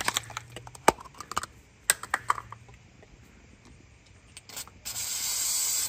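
A few light clicks and taps are followed by a sharp, close hiss of aerosol Flex Seal spraying that starts near the end and continues steadily.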